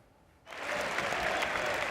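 A football crowd at Swindon Town's County Ground breaks into loud, sustained applause after near silence, the clapping swelling quickly and holding steady throughout.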